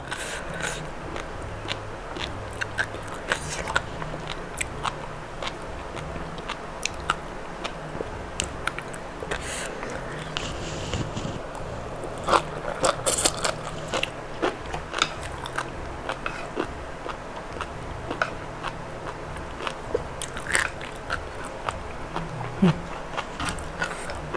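Sea grapes seaweed is chewed close to the mic in an ASMR style, producing continuous wet crunching and popping bites with a faint murmur underneath.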